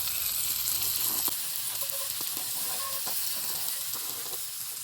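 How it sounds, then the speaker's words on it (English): Minced garlic sizzles steadily in a tablespoon of sesame oil, a continuous frying hiss with a few soft clicks and stirring knocks, close and fairly quiet with no talking. "I'm gonna add my minced garlic into the oil."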